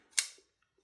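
A WeKnife 704CF folding knife flipping open with force, a single sharp close-up snap of the blade locking out, then quiet.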